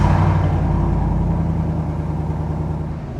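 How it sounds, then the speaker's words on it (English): A Chevrolet Silverado pickup truck's engine rumbles loudly up close as it backs into a garage, a steady low idle that fades slightly over a few seconds. "It's time to back this thing in here"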